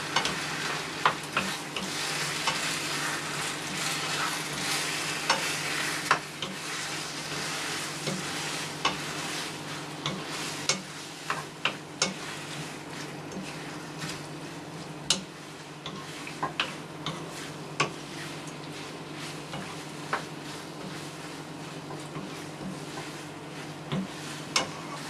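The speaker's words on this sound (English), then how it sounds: "As you can see, until this point it's still frying." Steady sizzling of tomato paste sauce frying in a pan, with frequent clicks and scrapes of a utensil stirring throughout, close and moderately loud.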